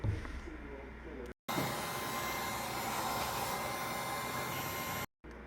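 A heat gun blows hot air over 3/4 inch PVC hot tub plumbing, a steady loud whooshing hiss that cuts out briefly twice, with a voice audible at the start.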